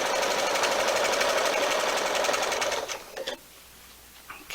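A sewing machine stitches jelly roll fabric strips in a steady, fast, whirring hum that runs loud and continuous for about three seconds, then slows with a few clunks and stops.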